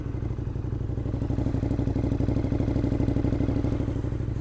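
A race-ready motorcycle with a full exhaust system, its motor still fairly cold, idles close and loud in a steady, fast pulsing rumble with no voices over it.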